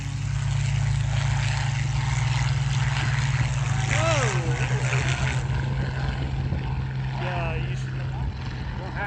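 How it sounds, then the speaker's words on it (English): Propeller-driven Spitfire fighter planes taking off at an air show, a loud steady engine drone with a low hum throughout, joined by whistling, sweeping tones midway and voices mixed in. "These Spitfire planes were taking off at an air show when one of them struck the runway with its propeller"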